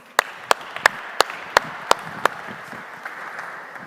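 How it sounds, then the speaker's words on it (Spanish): Sharp, evenly spaced claps ring out after a quantum computing talk, about seven crisp hand claps in a steady rhythm that trail off into faint scattered clapping. "Así que yo le daría un fuerte aplauso a Enric Delgado."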